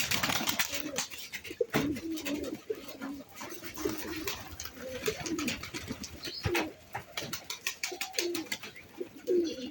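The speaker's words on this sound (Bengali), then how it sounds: "আর ডাকও কবুতরটা সুন্দর" Pigeons coo repeatedly in a loft of high-quality show pigeons, the soft throaty calls rising and falling at close range over steady background chirping and rustle, with no talk.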